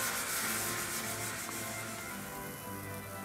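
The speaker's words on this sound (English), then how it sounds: "careful sanding is an important element for a good final outcome. We find 400 grit sandpaper gives an ideal finish." Wood being sanded by hand with 400 grit sandpaper during restoration of a church altar, a steady close rubbing hiss that runs without a break throughout.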